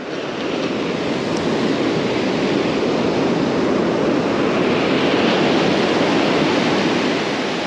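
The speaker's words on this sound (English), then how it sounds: "Wait for the waves to come in." Ocean surf rolling in at the shore on a November crabbing outing, a steady loud wash of breaking waves with wind noise on the microphone, continuous with no talk.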